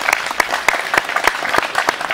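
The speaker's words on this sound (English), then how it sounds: "Give them a big round of applause, our trombone section." Audience applause for a trombone section at a band concert, a steady patter of clapping with sharp individual claps standing out, fairly close and lively, with no voices over it.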